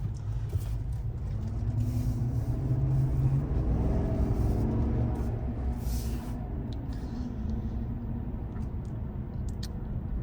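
A 2024 Chevrolet Silverado Custom Trail Boss pickup on off-road tires cruises steadily, giving a continuous low road rumble and muted engine drone with no talking.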